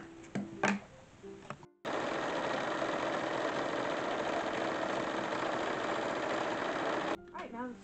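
A sewing machine runs steadily for about five seconds, stitching cotton dress pieces for an 1850s-style dress, with brief rustling and handling before and after the run.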